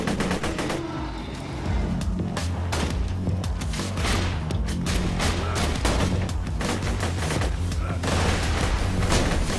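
Rapid bursts of Borderlands 2 gunfire crackle loudly alongside heavy explosive booms and grenade blasts, dense and continuous throughout.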